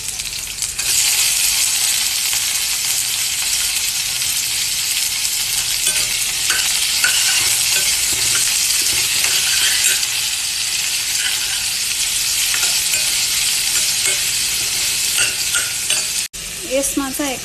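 Garlic, onion and mixed vegetables stir-fried in hot oil for hemp noodle chowmein, a loud continuous sizzle close up with scraping stirs throughout, no talking.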